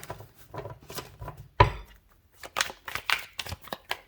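Several quick riffling bursts of a tarot deck being shuffled, close up, with short pauses and a sharp slap partway through.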